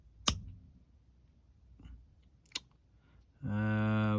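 Pruning shears snip into a dry bonsai branch, giving two crisp, isolated clicks a couple of seconds apart in a quiet room. A sustained humming tone starts near the end.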